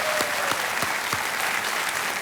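Studio audience applauding on the Hindi quiz show Kaun Banega Crorepati, a dense, steady wash of clapping from many hands filling the whole stretch, with a few sharper claps standing out near the front.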